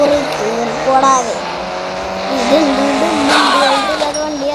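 A video game car drifts with sustained, wavering tire squeals over a revving engine, loud and close, with people talking over it.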